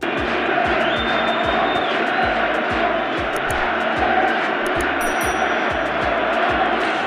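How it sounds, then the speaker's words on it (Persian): Esteghlal supporters fill a stadium with loud, continuous crowd noise for Farhad Majidi, rhythmic chanting with regular claps or drumbeats pulsing beneath the roar and occasional whistles cutting through. "تشویق فرهاد توسط هواداران استقلال"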